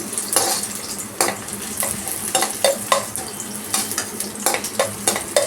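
Onion fries in a pan for baigan bharta. A close, bright sizzle is joined by frequent spatula scrapes and clinks against the pan, lively and fairly loud, with no talking.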